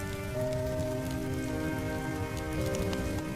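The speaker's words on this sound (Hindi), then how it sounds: "तेज बारिश में बीच सड़क पर भीग रहा था" Heavy rain pours steadily and loudly onto a road, a dense continuous wash of drops filling the scene, with a faint tonal hum running beneath it and no voices.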